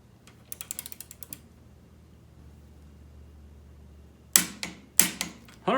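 Torque wrench ratcheting on the shock bolts of a Yamaha YFZ450 ATV, a quiet quick series of clicks first, then a pause and a few louder, sharper clicks near the end, with no talk.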